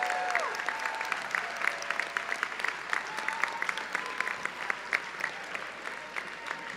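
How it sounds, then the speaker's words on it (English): Steady applause from a graduation ceremony crowd, continuous clapping at moderate distance with no break. "let's give them a round of applause"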